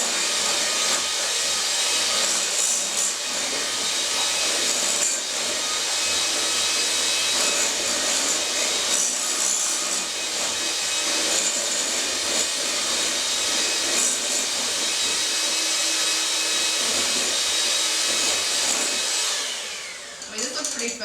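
An electric hand mixer beats sugar and eggs for an apple cake in a home kitchen, a loud, steady whirring drone lasting about twenty seconds before winding down, with faint voices beneath.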